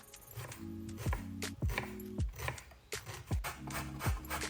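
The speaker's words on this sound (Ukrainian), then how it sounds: "Для начинки я нарізаю цибулю середнього розміру" A knife chops a medium onion on a cutting board in repeated sharp thuds, several strokes with short pauses between, close and clear.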